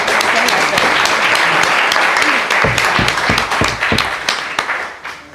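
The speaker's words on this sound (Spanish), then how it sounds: "les pido recibir con un fuerte aplauso a nuestra compañera Crista de Paraguay" Loud, dense audience applause at a political forum welcoming a speaker, sustained and close, then thinning into a handful of separate claps as it fades out.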